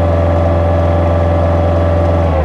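A Bobcat T300 skid steer engine held at about 2,500 RPM gives a steady, loud droning hum with a strong low tone, close up and unbroken, the machine suspected of hydrostatic pump trouble.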